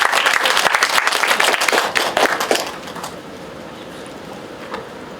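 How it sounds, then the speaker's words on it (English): Audience applause at a talk on Chinese shipwrecks and underwater cultural heritage, dense clapping for about two and a half seconds that thins and fades, leaving quiet room tone. "So please clap our hands and listen to Steve's presentation."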